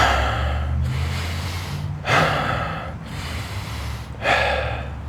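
Rapid forceful breathing exercise, sharp noisy inhales and exhales in a steady repeating rhythm, close and loud, with three stronger gasping bursts and no talk.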